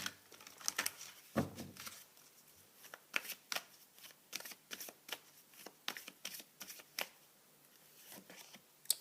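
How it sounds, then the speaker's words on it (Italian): Oracle cards shuffled and laid out on a surface during a tarot reading, a sequence of crisp flicking and slapping card sounds in an irregular rhythm, close and fairly quiet, with no talk. "Metto soltanto 3 carte oracolo finali per concludere."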